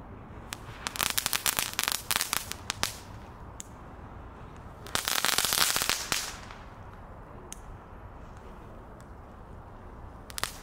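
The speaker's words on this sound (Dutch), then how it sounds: "Ja, het zijn lullige pillycrackers." Small supermarket novelty firecrackers from Albert Heijn go off outdoors in quick irregular pops, a denser crackling burst in the middle and a few scattered cracks afterward; fairly soft and close, with no voices.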